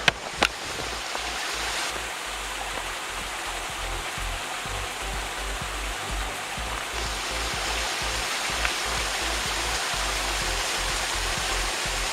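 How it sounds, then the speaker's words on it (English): Steady rushing water fills the scene, a creek tumbling over small falls with a constant broad roar and no voices. "So many awesome little cascades."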